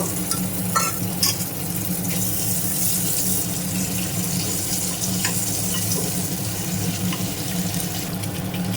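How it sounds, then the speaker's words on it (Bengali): Eggs fry in mustard oil in a wok, giving a continuous close hiss with occasional light clicks and a low steady hum underneath. "এবার আমি ডিমগুলি হালকা করে ভেজে নেব"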